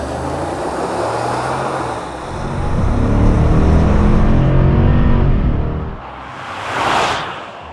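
A stock Chevrolet Silverado LTZ pickup launches hard down a drag strip, its engine roar building loudly and close for several seconds before easing off, then a brief rush as it passes farther away.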